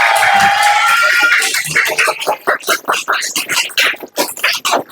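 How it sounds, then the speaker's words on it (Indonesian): School children applaud in a classroom, a burst of quick uneven clapping that follows a loud rhythmic group chant, close and lively. "Tepuk tangan dulu,"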